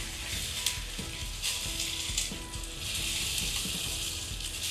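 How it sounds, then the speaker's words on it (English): Steak fat cap seared against a hot cast iron skillet, a continuous close loud sizzle with repeated small crackles and pops, no talking. "so we're going to sear the fat cap as well."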